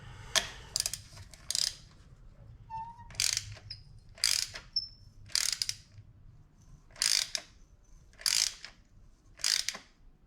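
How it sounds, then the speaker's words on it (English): Ratchet clicking in bursts while spark plugs on a Kia Optima 2.0L four-cylinder are tightened, close and crisp, with quiet pauses between strokes and no talking. "I like to get them hand tight before starting to ratchet."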